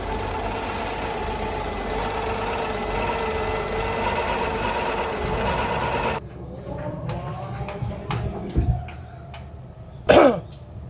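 A 1976 Toyota FJ40 Land Cruiser's 4.2-litre 2F petrol engine idles with a steady, even rumble that carries on for several seconds, then the sound cuts to quieter cabin noise with a few brief knocks.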